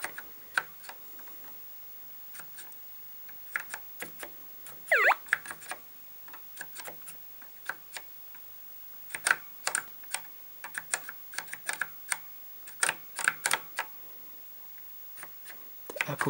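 Someone taps on an Apple IIe keyboard, making irregular bursts of crisp, close key clicks, sometimes single presses and sometimes quick clusters.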